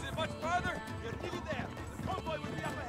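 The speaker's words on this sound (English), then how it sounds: "We're just riding horses into battle." In the Uncharted 3 video game, horses gallop into battle with rapid clip-clop hoofbeats and an occasional whinny, mixed under a person talking steadily throughout.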